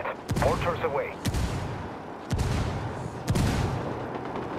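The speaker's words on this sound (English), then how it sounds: "Mortars away." Mortar fire in Ghost Recon Wildlands, heard as four heavy, evenly spaced booms about a second apart, each a loud broadband blast. A voice speaks faintly near the start.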